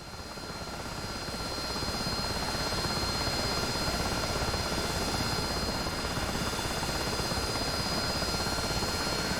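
AV-8B Harrier jet engine in the DCS World flight simulator, a steady loud roar with a broad whine that swells during the first two seconds and then holds constant, with no voices.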